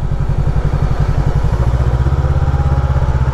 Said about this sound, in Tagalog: So, nakamotor po tayo, DS500.